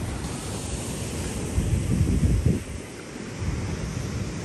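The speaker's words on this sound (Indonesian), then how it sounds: "Inilah pagi di pantai Marang." Morning waves wash onto Marang beach in Terengganu, a steady broad surf roar with a louder swell building and breaking midway, buffeted by wind noise on the microphone.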